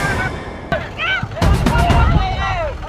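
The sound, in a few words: gunfire during a land dispute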